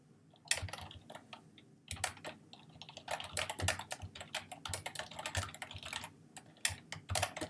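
Keys clatter on a computer keyboard while a MATLAB script is typed, close and crisp, in irregular quick bursts separated by short pauses.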